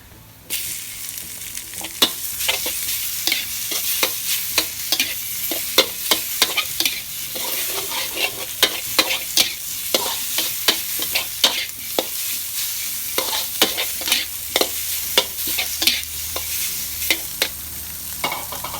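Minced pork is stir-fried in a pan with a steady crackling sizzle, punctuated by repeated scraping taps of a spatula stirring at an uneven rhythm, close and continuous with no talk.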